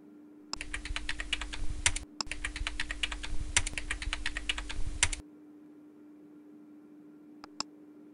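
Rapid keystrokes on a computer keyboard, a close, steady burst of typing lasting several seconds, followed by quiet and a couple of isolated clicks, over a faint electrical hum.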